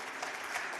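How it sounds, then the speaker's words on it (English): Steady applause from an audience at an agricultural feed industry symposium and annual meeting, a dense even patter of many hands clapping throughout, moderately loud and unbroken. "Big round of applause for Mr."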